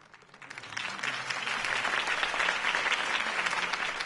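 Crowd at a campaign speech for Harvey Dent breaks into applause, clapping swelling quickly from quiet to a steady, dense roar of many hands that holds to the end.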